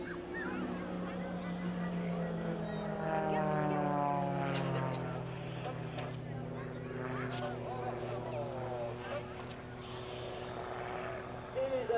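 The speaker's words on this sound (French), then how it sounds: "Et les avions se séparent dans deux renversements distincts" Aerobatic propeller airplanes at the Villeneuve air show in 2017 drone overhead, a loud sustained engine tone that shifts pitch as they pass, with a commentator talking over it.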